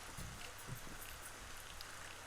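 Rain falling in the video game Rising World, a faint steady patter and wash of drops with a few soft thuds underneath, no voices.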